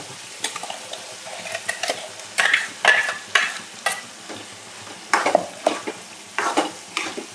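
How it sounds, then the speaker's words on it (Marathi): Masala fries in hot oil for a village-style peas and potato curry, with a steady sizzle broken by repeated scraping strokes of a spoon stirring in the pan. "छान तेल सुटलं, त्यात आपण मसाला टाकू."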